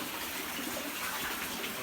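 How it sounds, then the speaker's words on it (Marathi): Water gushing steadily out from inside a mountain beside an ancient Shiva temple of the Pandava era, a continuous close broadband rush with no voices. "इकडे जे पाणी येतं सगळं आतून डोंगरामधून येतं"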